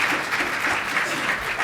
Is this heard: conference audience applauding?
yes